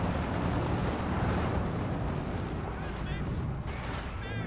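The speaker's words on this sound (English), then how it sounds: "120mm mortar engaging the Scott here as well" A 120mm mortar and gunfire in the Company of Heroes 2 video game, dense continuous battle noise with rumbling blasts and crackling shots, loud and unbroken throughout.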